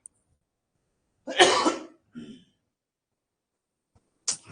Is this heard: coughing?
yes